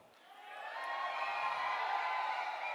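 An audience welcoming a presenter at a health seminar erupts in cheering that swells over the first second and then holds loud, a sustained blend of voices with faint clapping underneath.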